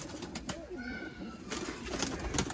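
Pigeons cooing at close range, soft repeated low coos with faint bird sounds and light rustling in the background.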